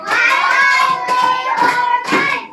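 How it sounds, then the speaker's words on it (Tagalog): A grade-three class claps hands in a classroom, with a few bursts of clapping and voices of children and a teacher mixed in and heard clearly throughout. "Bigyan ng 5 palakpak"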